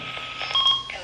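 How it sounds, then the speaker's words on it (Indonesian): A Redell R-5308 VHF handheld radio emits a short, thin electronic key beep over a faint background hiss, lasting about a second. "Kalau mau beepnya dihidupin juga bisa."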